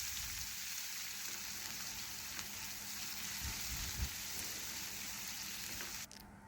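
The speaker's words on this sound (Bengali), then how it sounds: "পেঁয়াজ একটু ভালোভাবে লাল লাল করে ভেজে নেব।" Chopped onions frying in a pan with cardamom, bay leaf and whole cumin for a Bengali fish curry, giving a steady, dense sizzle at close range that runs unbroken throughout with no talk.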